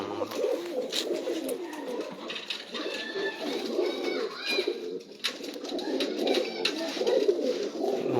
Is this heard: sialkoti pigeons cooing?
yes